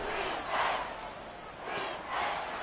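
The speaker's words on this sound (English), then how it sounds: "this crowd trying to force a false start here" Stadium crowd in the Madden 24 football video game on a third-and-inches play, a steady roar that swells twice in loud broadband waves as fans try to force a false start.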